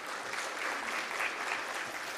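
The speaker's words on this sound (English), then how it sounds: "Give me a big round of applause" A crowd claps steadily, a dense, even patter of applause from many hands throughout.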